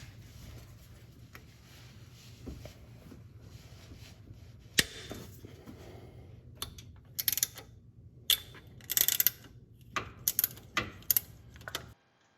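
Ratchet loosening a nut on a Nissan Quest, a series of quiet close clicks and metallic ticks in uneven bursts over a low background hum, growing more frequent toward the end.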